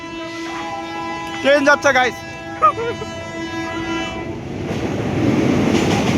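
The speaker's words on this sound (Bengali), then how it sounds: "আর এই যে ট্রেন যাচ্ছে" A train crosses a rail bridge near a tea estate in Siliguri, sounding two long horn blasts and a short third before a building rumble of wheels on the track; a voice speaks briefly.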